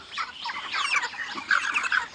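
Farm chickens cluck and chatter continuously while pecking at fermented feed spread around the edge of a feeding pot, a busy close-up flock sound with overlapping calls.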